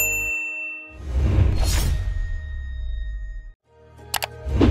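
A bright bell ding, used as a notification sound effect, rings out clearly over a low music bed, followed by a quieter metallic ding near the end.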